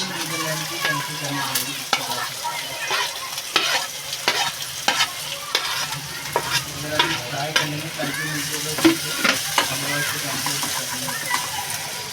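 Garlic and onion fry in a pan with a continuous close sizzle, broken by frequent scraping stirs and clatters. A voice talks intermittently over the cooking.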